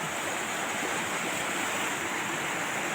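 A clear river at Dusun Darungan flows with a steady, loud, even rush of water and no voices over it.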